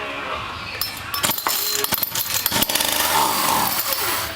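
A homemade RC vehicle powered by a chainsaw engine runs loud and close, its raspy two-stroke whine revving and sputtering unevenly throughout the short burst.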